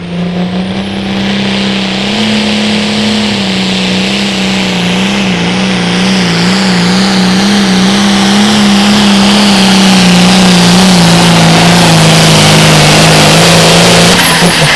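A John Deere 4450 farm tractor roars loud and close down the tractor pull track. The heavy engine note wavers and strains, then climbs to a fuller roar near the end with no pause.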